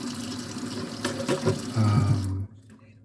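Tap water running into a container at a sink, a close rushing fill that rises in pitch and then cuts off abruptly, with a brief murmur from a voice.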